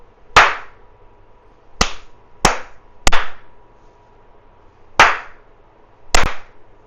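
Six sharp hand claps ring out in a quiet room, spaced irregularly over several seconds, each a crisp, loud snap with a short decaying tail against faint background hum.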